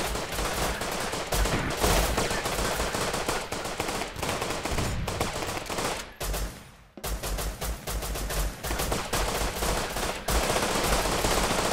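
Dense automatic gunfire from several weapons in the video game Rust as players shoot at barricades during a 12 vs 12 raid, loud, near and nearly continuous, with one brief lull in the middle before the shooting resumes.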